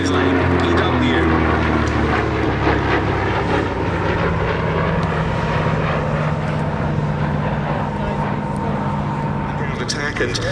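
A P-51 Mustang with red tail markings flies at the Duxford Battle of Britain airshow, its engine a steady, loud droning roar throughout, heard under a commentator's voice.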